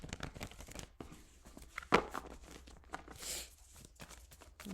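Soft, rapid papery riffling and flicking of cards, a quick burst of crisp snaps followed by lighter shuffling rustles, close and fairly quiet.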